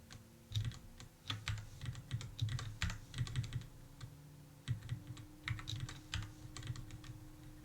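Computer keyboard typed on at close range while clearing out commented-out lines of code, quick bursts of key clicks with short pauses between them, no voices.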